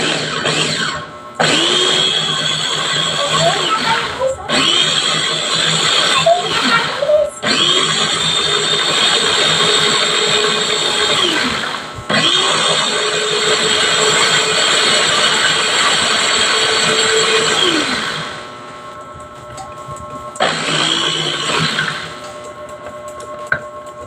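A blender grinds a homemade mango ice cream mixture, running loud and steady in several bursts separated by brief pauses, each start winding up to a continuous whirring drone.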